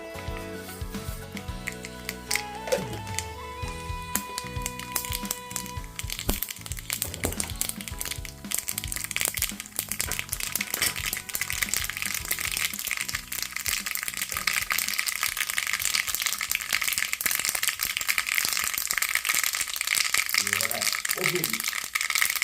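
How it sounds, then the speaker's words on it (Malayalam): Mustard seeds pop and crackle in hot oil for pepper rasam, a dense, steady spatter that grows and carries on for many seconds after a voice talks at the start. "ഇപ്പോൾ കടുക് പൊട്ടിയിരിക്കുകയാണ്."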